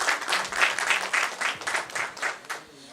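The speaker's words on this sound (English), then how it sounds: "So please give the organizing team a round of applause," An indoor audience at a gold market panel event applauds the organizing team, a short, moderate round of clapping with a pulsing rhythm that fades out.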